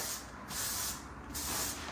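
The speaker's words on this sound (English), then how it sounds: "spraying the ponytail with loads and loads of Undone texture spray through here." Amika Undone texture spray is misted onto a high ponytail in three steady, soft hissing bursts, close and fairly quiet, with no talking.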